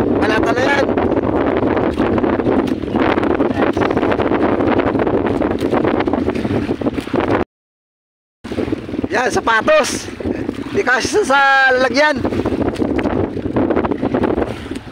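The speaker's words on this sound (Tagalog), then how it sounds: "Lakas ng hangin," Steady, loud, cold wind buffeting the microphone outdoors at night during spearfishing, with someone talking over it and a brief dropout partway through.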